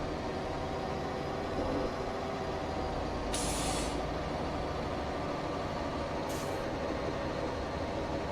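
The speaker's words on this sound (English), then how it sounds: "we're just running some brakes here just because it's a bit of a hill" Air brakes hissing on a Mack R truck going down a hill in American Truck Simulator, two short bright bursts of release over a constant loud engine and road drone.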